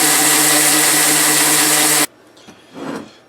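A new cast iron skillet being sanded, a loud continuous power-sander whine and rasp that cuts off abruptly, followed by quieter hand rubbing.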